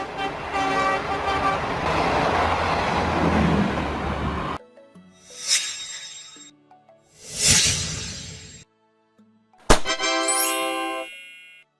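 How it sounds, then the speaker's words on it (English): A diesel train rumbles with a dense, sustained engine roar for several seconds, then sounds a series of loud horn toots separated by short silences, close and powerful. "A train powered by diesel engines, often used where electric trains are not feasible."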